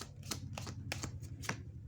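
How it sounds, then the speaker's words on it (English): A tarot deck is shuffled close by, with a handful of quick, crisp card riffles and taps spaced irregularly over a faint low hum. "I don't know why I'm shuffling this tarot deck already"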